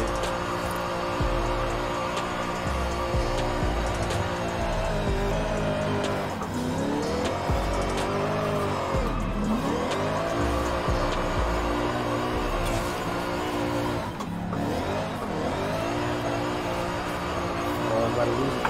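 A 1000HP V8-swapped 1930 Bentley drifting at around 90 mph in Forza Horizon 5, with a loud, steady engine drone rising and falling through gear changes, tire squeal throughout, and someone talking over it.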